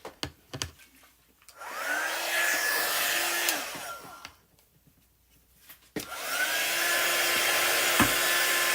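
A heat tool drying chalk paste on a stencil blows with a steady whooshing whine, running for about two seconds, cutting off, then starting again and holding to the end, with a few clicks and handling knocks between.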